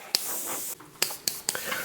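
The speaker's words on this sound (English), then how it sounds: "spraying very lightly in very strategic areas, you can minimize that" An airbrush sprays paint in a few short, light hissing bursts, close up and faint against a quiet room.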